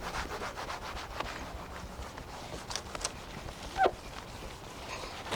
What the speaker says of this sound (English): A simple mechanical decontamination with a clay mitt can do the job very well.